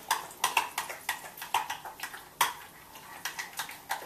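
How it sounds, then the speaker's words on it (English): A spoon stirs dip in a bowl, giving a series of sharp, irregular clinks and taps against the dish, close and clear with quiet gaps between strokes. "I'm going to take this spoon and I'm just going to stir it together"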